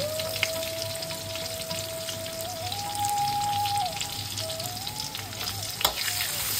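Chopped onion sizzles in hot oil after whole spices have been tempered, a loud, dense frying hiss with scattered crackles and a faint steady whine running through it.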